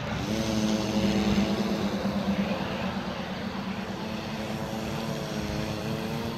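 A scratch-built RC rescue airboat's propeller motor runs steadily, a continuous buzzing drone with a slight rise and fall in pitch as it turns and throttles, moderately close and heard alone.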